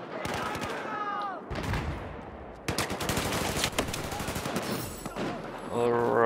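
Rapid bursts of automatic gunfire in Battlefield 4, shooting at a claymore, crackle in repeated volleys, loud and close, broken by a brief pause before a second heavy stretch of shots.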